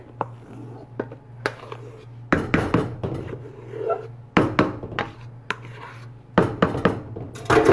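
Egg whites being folded into a batter for a Tom and Jerry mix: a spatula scrapes and knocks against a bowl in irregular clatters and thumps, fairly close, with a low steady hum underneath.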